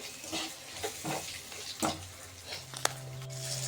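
Spoon scrapes and stirs through food in a pan in a few slow strokes over a soft sizzle, with a brief clink near the end.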